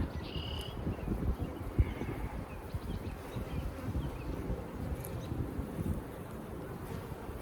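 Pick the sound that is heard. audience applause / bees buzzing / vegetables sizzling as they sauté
bees buzzing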